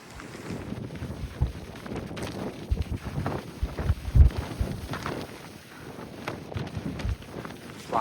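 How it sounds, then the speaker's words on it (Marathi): Strong gusts of wind buffet the microphone on a misty, drizzly mountain summit of the Linganacha Dongar trek, a continuous rumbling roar with sharper thumps, close and loud, with no speech. "वारा मात्र सॉलिड आहे इकडे"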